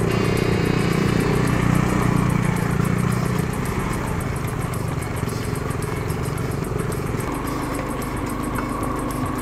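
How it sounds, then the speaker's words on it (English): A KTM RC sports bike engine runs steadily on a high mountain road toward Khardung La near Leh, a loud continuous motor drone with rough low rumble and wind noise throughout. "Now RC is like a sports bike."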